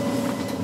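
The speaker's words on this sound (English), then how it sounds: "Train." A train passing at a railway station platform, a continuous rumbling rolling drone with wheel noise, steady and moderately loud throughout with no talk.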